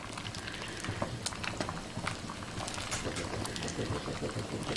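Hot water pours over a head of cabbage to loosen the leaves for country cabbage rolls, giving a steady bubbling, splashing wash of liquid with scattered brief drips throughout.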